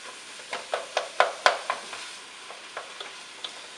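A spoon scrapes and taps rhythmically through a sizzling pan of browning filling seasoned with sofrito, a steady run of close, clear strokes over a soft frying hiss, with no talking.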